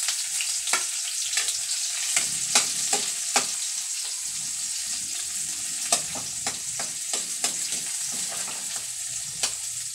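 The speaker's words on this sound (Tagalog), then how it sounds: "igigisa na po natin ang ating bawang" Garlic and onion sautéing in a pan for chicken curry with papaya, a steady close sizzle broken by frequent sharp scraping stirs of a utensil against the pan.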